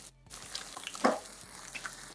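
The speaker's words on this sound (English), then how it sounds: "It's going to start to bubble and sizzle like this, and it's actually going to like melt down completely" Goat's cheese bubbles and sizzles as it melts in a hot pan, a steady close frying hiss with small crackling pops throughout.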